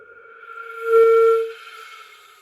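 Flute tone as the embouchure is rolled in and out: a breathy whistle-like note fades in, swells to a clear steady pitch for about half a second, then thins away, alone and close.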